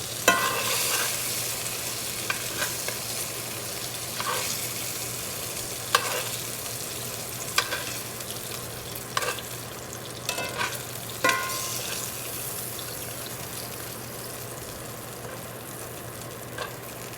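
Kielbasa fries in a cast iron pan with a steady, faint sizzle, broken by periodic sharp clicks and scrapes of stirring every second or two, no talk.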